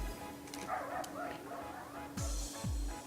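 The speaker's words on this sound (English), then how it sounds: "I'm sorry, that's my dog." A dog gives a few short barks and yips in a room, faint under soft background noise, with a louder yelp or two near the end.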